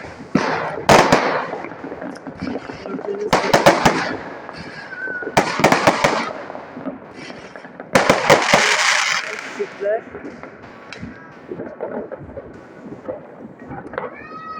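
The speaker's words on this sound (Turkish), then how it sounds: "Burada havai fişekler patlıyor" Fireworks burst in loud crackling volleys at a New Year celebration, several clusters of sharp bangs spread across the clip, with a person talking between and under them.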